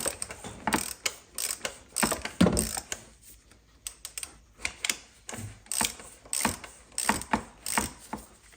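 A ratchet clicks in quick repeated bursts as it turns a 27mm socket on the oil filter housing of an R60 Mini Countryman Cooper SD All4, with close, crisp pawl chatter and short pauses between strokes.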